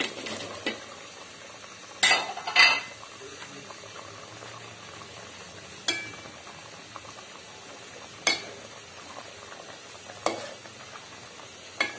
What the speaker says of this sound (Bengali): এখন আমি বড়াগুলি অ্যাড করব।